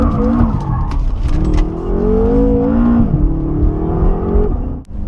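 A BMW M5 engine drones steadily from inside the car as it drives, a loud, continuous rumble whose pitch rises and dips with the throttle, with faint clicks over it.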